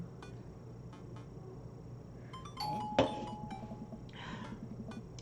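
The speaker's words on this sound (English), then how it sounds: "the doorbell rings." A doorbell chimes once in the dating game Dream Daddy, a single bright ding against a quiet backdrop with a few soft clicks around it.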